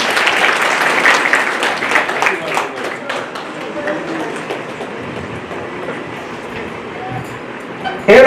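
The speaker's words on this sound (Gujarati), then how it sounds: "તાળીઓ જોઈએ તો" An audience claps together at a Bhagvat Katha gathering in Haridwar, a dense, sustained round of applause that is strongest early on and then thins out, with a voice faintly present underneath.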